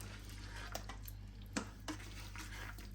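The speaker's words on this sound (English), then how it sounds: "And just give it a good old stir" A spoon stirs minced beef stew in a slow cooker, a few soft scraping clinks and wet sloshes near at hand over a steady low hum.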